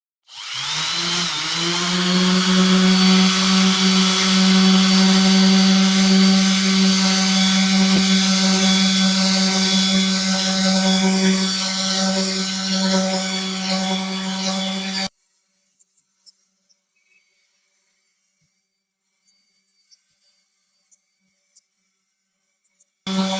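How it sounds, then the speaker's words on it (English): A Makita BO5041 random orbital sander with an 80 grit disc sands wood, whirring loudly and steadily for about fifteen seconds, a continuous buzzing drone, then cuts off into near silence with faint clicks. "I've fitted it with an 80 grit sanding disc to really strip the surface effectively."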